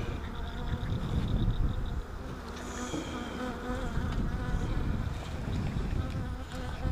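Honeybees buzzing during a beehive inspection, a thick continuous drone of many bees close by, steady and fairly loud with individual bees whining past, no voices present.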